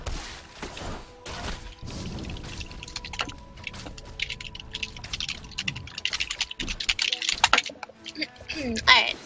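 Rapid computer keyboard typing during a ranked League of Legends match, heard as dense clicking bursts mixed with game sound effects and speech.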